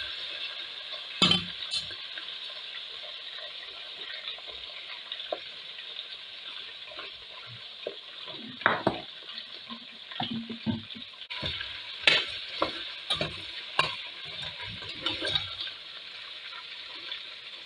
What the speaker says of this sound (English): Just leave them a little fried.